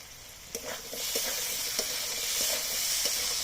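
Potatoes and onions fry in a pan with a steady, bright sizzle that swells after the first second. Scattered clinks and scrapes of stirring break through the hiss.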